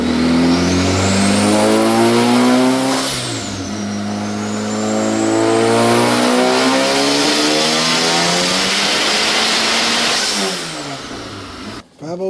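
A boosted 500 hp Honda CB7 Accord engine revs hard under power, loud and close, climbing through the revs, dipping briefly between pulls, then surging again before cutting off near the end.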